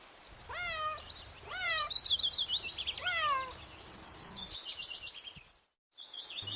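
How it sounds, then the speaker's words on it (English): A cat meowing several times in a row, clear rising-and-falling calls, with high chirping bird calls running alongside and a soft low background hum. "C for cat."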